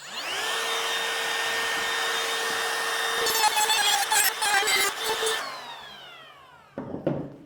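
A router with a bit set well out cuts wood for an internal four-panel door, a steady high whine that runs alone, then gives way to rough chattering bursts as it bites into the timber, winds down, and ends with a short knock.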